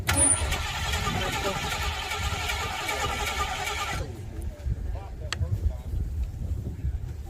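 An old Ford engine, choke pulled out, cranks and catches, running rough and loud, then settles into a lower idle with some background noise.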